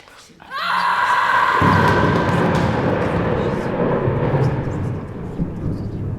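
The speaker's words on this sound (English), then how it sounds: "Her bitter scream of pain was drowned in the thunder crash." A loud, sustained crash of thunder rolls in suddenly and rumbles on heavily, with a faint cry briefly audible near the start.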